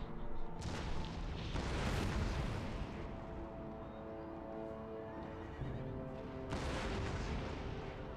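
Heavy booming blasts of cannon artillery fire in the video game Empire: Total War roar in bursts, loud and dense, with rumbling between volleys.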